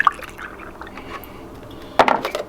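Milk pours and splashes in short bursts into a matcha boba drink, with a brief trickle at the start and a louder sloshing pour near the end.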